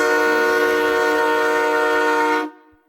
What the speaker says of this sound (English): Before anyone can say anything else, a train horn blasts.